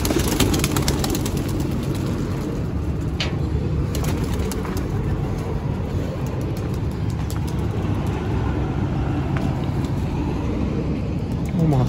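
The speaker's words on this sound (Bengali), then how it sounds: "আরো একটা কবুতর বাইরে দেখা গেছে।" Racing pigeon cooing outdoors, soft repeated coos over a steady background hum with occasional traffic, while people talk nearby.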